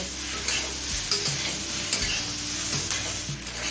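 Onions fry in a pan until soft for ghugni, a steady close sizzle with repeated stirring scrapes from a spoon, loud and continuous, with no talking.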